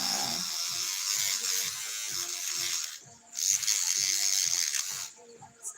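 A nail buffer worked over the corners of the nails makes a rapid, rhythmic scratchy buzzing in short regular strokes, close and clear, with two brief pauses.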